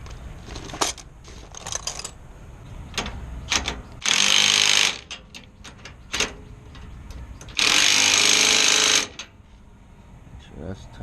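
Bolts being tightened on a bull bar fitted to a Dodge Ram 1500, with 19 mm hardware. Scattered metallic clicks and clanks are heard up close, broken by two loud, harsh bursts of about a second each.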